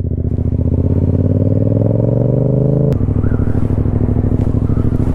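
Yamaha motorcycle ridden in standard throttle mode, its engine loud and close with a steady droning note that climbs in pitch, then drops sharply and settles into a lower, rougher run.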